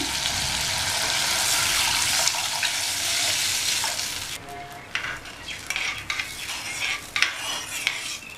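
Kuzhambu with tomato paste sizzles loudly in a pan for several seconds, then a spoon stirs and scrapes, making repeated sharp clinks against the metal over a softer frying hiss.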